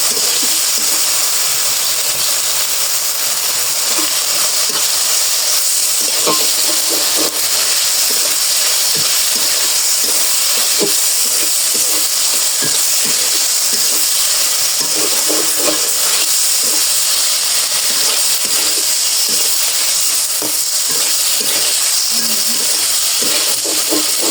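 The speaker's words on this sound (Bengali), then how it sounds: "কষিয়ে নিই।" Paneer cooks in spiced masala in a pan with a loud, steady sizzle and hiss throughout, marked by frequent scraping stirs of a spatula.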